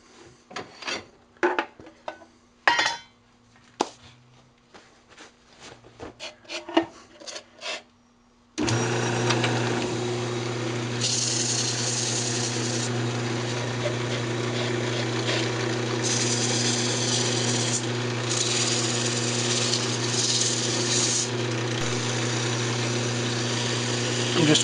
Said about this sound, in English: Then go ahead and sand it up.